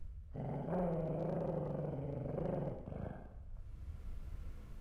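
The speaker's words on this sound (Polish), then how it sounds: "jest tam pies za tymi drzwiami, warczy" Dog growling behind a door in the game CS:GO, a low rumbling snarl lasting a couple of seconds, then quieter ambient sound as it subsides.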